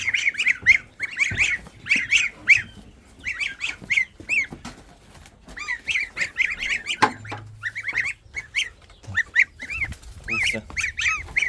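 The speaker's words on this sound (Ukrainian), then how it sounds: "Гуси, повернулися у двір." A flock of geese honking repeatedly and noisily, close by, with overlapping calls in bursts and brief pauses between them.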